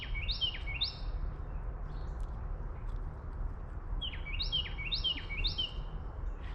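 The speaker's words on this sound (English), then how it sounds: "Beautiful songbirds." Songbirds sing outdoors in nature, with repeated bright chirping phrases in two bursts, a short series early on and a longer run later, over a low rumbling background.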